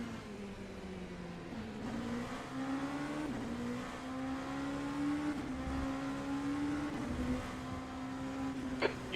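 Race cars in the rFactor 2 sim racing game, LMP2 and GTE prototypes and GT cars at Daytona road course, engines whining steadily through gear shifts at moderate level without talk.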